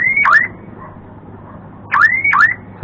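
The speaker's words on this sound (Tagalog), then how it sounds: "alarm signal." Viking aftermarket car alarm fitted to a Suzuki Alto 800 sounds in two loud bursts, each a pair of rising electronic whoops, separated by a quiet gap with low background hum.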